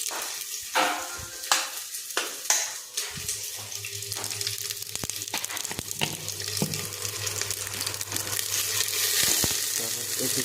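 Cumin seeds sizzling in hot oil for sambar, a steady frying hiss that builds slightly louder over time, with a few clinks and soft stirring knocks and no talk.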